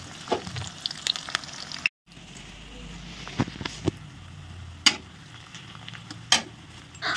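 Chicken sizzling in a pan with onion and garlic, a steady low fry under the whole stretch, broken by a brief dropout and a few sharp clinks of a utensil against the pan.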